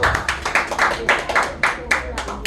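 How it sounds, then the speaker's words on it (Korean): A live audience for a Korean real-estate lecture broadcast claps in a short burst of rhythmic applause, loud and close, with a voice speaking over it. "박수!"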